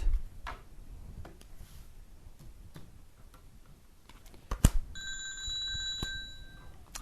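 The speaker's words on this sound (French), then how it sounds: "alors voilà, ça c'est mon téléphone" An electronic telephone ringtone sounds in a few short repeated tones late in the clip, after a stretch of quiet ticking, clicks and room noise in a live studio broadcast.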